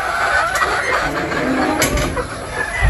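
A gamefowl rooster, a Lemon crossed with Sweater, is penned nearby, giving soft clucks and short calls over steady background noise, with no talking.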